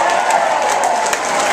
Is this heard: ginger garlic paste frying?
no